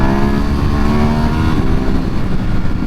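A Ducati Hypermotard SP 2022 motorcycle under way, its engine giving a loud, steady, close drone with a dense low rumble and stacked harmonics throughout.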